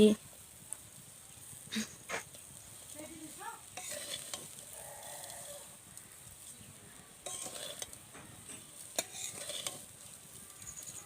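Sugar stirred into semai (vermicelli) in a pan, quiet scraping and light sizzle with occasional utensil knocks against the pan, and faint voices in the background.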